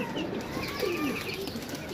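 Soft cooing of pigeons over a steady outdoor background hiss, low and continuous with no talking.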